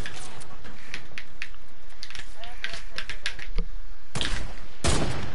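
Rapid bursts of video-game gunfire crackle among keyboard clicks, with two louder blasts near the end and talk mixed in.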